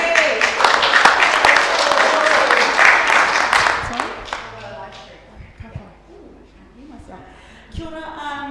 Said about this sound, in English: Applause everyone.